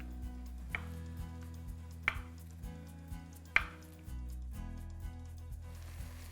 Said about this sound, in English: you just want to cut them up, but on a diagonal